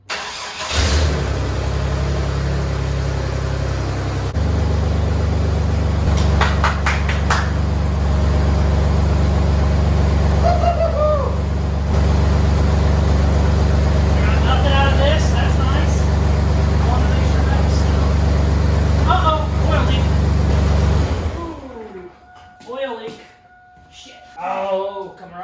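A turbocharged rat rod hot rod engine catches and runs on its own, a loud, steady rumbling idle lasting about twenty seconds before cutting off, with a voice speaking briefly over it and afterward.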